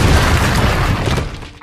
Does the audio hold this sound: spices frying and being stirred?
no